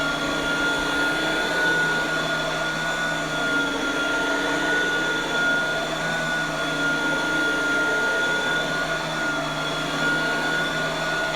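On high speed, a reconditioned two-speed vacuum cleaner's motor runs loud and constant, a close, even whine with a steady tone and no pauses.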